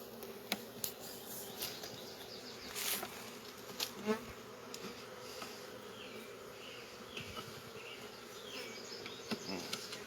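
Bees buzzing steadily around an opened beehive during a hive check, a soft continuous hum with individual bees passing close now and then, no talking.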